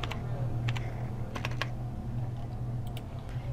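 Keys clatter on a computer keyboard as a postal code is entered, with quick clicks in small bursts over a steady low hum.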